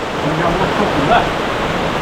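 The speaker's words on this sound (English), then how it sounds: "It rained." Steady, dense rain falls outdoors at an off-grid cabin, a close and constant hiss without pauses or voices.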